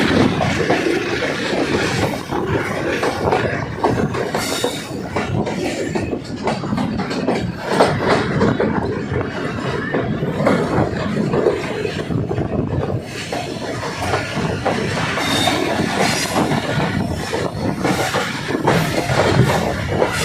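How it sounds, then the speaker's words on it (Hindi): Pakistan Railways Ravi Express train running on tracks between Lahore and Shorkot, a steady loud rumble with rail clatter and wheel noise that continues throughout without pause. "रेलगाड़ी शाम की तरह बल खाते हुए शोरकोट की तरफ गामजन है।"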